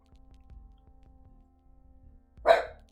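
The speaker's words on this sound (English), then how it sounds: "You're eating everything, you're barking at everything." One sharp, loud dog bark bursts out near the end, after a stretch of faint, low rhythmic background noise indoors.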